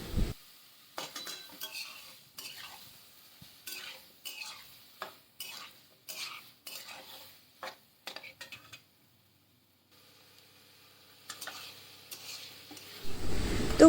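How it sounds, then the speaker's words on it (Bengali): Chana dal with soybean chunks and potato is fried with onions in a pan, heard as repeated bursts of spoon scraping and clinking against the metal with a light sizzle and brief pauses between strokes. "দিয়ে খুব ভালোভাবে আমি এই পেঁয়াজের সঙ্গে ছোলার ডালটাকে কষে নেব"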